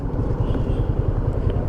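A motorcycle engine idles with a steady low rumble while it is being parked, a close, continuous motor drone with no voices over it.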